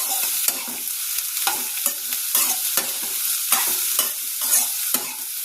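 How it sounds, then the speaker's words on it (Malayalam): Cassava leaf avial being stirred and mixed with oil in a pan, a steady run of wet scraping strokes with soft sizzling underneath, close and moderately loud with no talking. "ഒന്ന് എണ്ണ എല്ലാവർക്കും ഒന്ന് പറ്റാൻ പാകത്തിന് മിക്സ് ചെയ്യുക"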